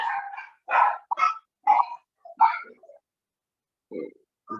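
Dogs bark nearby in a quick run of five or six sharp barks, then a pause and a couple more, with no talk over them.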